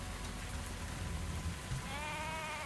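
A sheep in the tavern video game Tavern Talk gives a single short wavering bleat near the end, over a continuous backdrop of pattering rain.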